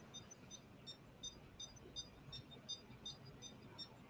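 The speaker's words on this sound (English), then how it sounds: "start it and stop it with this button, and it'll beep" A small electronic metronome set to 163 BPM beeps in a quick, even pulse, roughly ten faint high beeps under a low hiss of room noise, with no talking.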